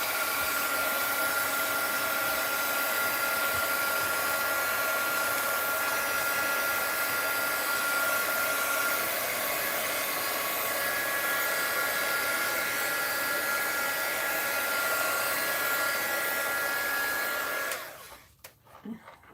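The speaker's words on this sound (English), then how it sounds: "Let's give it a little dry. I have to find a different place for my heat gun." A heat gun blows steadily, drying a mixed-media art journal page. The hiss is loud, continuous and close for about seventeen seconds, then cuts off abruptly, leaving near silence.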